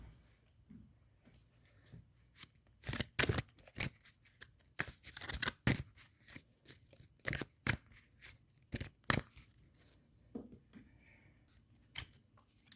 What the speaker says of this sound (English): I'm going to take your cards and do a shuffle.